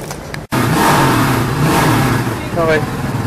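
Rusi Classic 250 motorcycle engine revving close by, a steady loud mid-pitched drone that rises in pitch near the end, with a voice talking faintly underneath.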